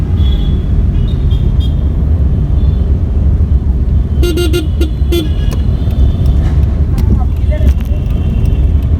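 A Tata Nano drives uphill in second gear, its engine and road rumble loud and constant from inside the car. A few short horn toots from traffic come midway, and a voice can be heard.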